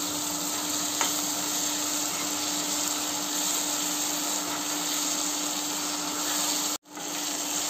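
Onion, tomato and avare beans fry in an oil tempering for avarekalu uppittu, giving a steady close sizzle with one faint click and a brief dropout near the end.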